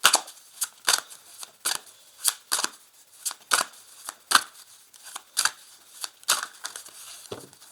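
Oracle cards are cut and shuffled in several short, papery snaps and riffles repeating at a steady, quick rhythm, close and fairly crisp, with no voices.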